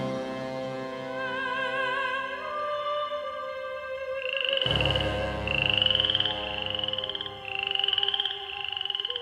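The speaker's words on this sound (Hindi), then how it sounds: "चारों तरफ से टरटराने की आवाज सुनाई देने लगी।" A chorus of croaking frogs over a layered tonal backdrop, the croaks growing louder and denser partway through, with no talking.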